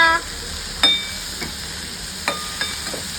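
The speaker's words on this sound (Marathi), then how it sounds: "आपण मक्केला मिक्स करूया" Spiced corn is stirred in a pan, with a few sharp, separate utensil clicks and taps against the metal over a quiet, faintly sizzling background.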